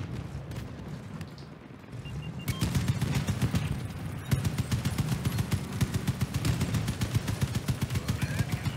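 Automated guns fire in a first-person shooter video game, starting after a calmer stretch and becoming a loud, sustained barrage of rapid shots and booms that continues to the end.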